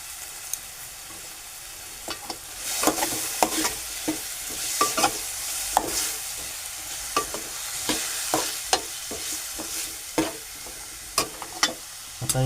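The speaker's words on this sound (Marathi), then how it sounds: "आणि टोमॅटो पण टाकून घेतो लगेच आणि चांगलं ढवळून घेतो" Tomatoes are stirred into a pigeon pea pod curry frying in a pan, with a continuous low sizzle and frequent crisp spoon scrapes and clacks at an uneven rhythm, close and without talk.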